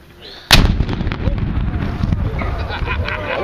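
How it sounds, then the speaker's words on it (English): A ceremonial artillery gun fires a single loud, close blast at a bicentennial event, followed by a long rumbling echo that fades over several seconds while voices are faintly heard. "Gun number 1 is ready to fire."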